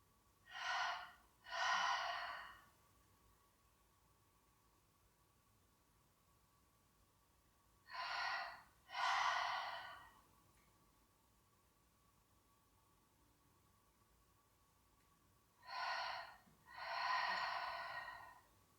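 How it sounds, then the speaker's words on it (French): A person in a standing Pilates warm-up breathes out in two quick counts, a pair of soft airy exhales repeated three times with quiet pauses between. "La prochaine fois, on expire en 2 temps."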